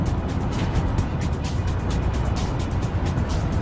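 A car roars along at speed during a chase, a dense continuous engine and road rush with rapid fluttering, loud and close throughout.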